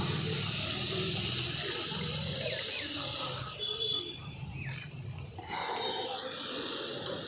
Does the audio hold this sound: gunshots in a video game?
no